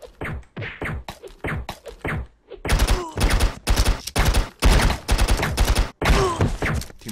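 AK-47 fire in the Stick Arena Dimensions video game, short choppy bursts early, then rapid heavy clusters of loud punchy shots with brief gaps between volleys.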